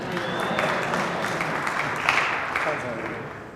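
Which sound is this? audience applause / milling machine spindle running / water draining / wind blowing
audience applause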